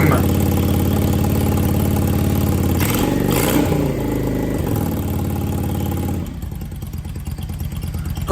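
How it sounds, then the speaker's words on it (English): A Yamaha V Star 650 motorcycle engine idles close by with the choke in, a steady low throbbing rumble that briefly dips and shifts midway, then settles back to an even idle. "Put the choke in, nice idle already."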